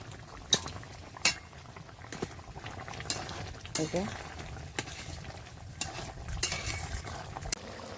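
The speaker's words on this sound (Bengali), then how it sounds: "দেখো, তরকারিটায় জাল উঠে গেছে।" Yogurt and soybean curry boiling in a pot, a steady bubbling simmer with scattered clinks and scrapes of stirring throughout.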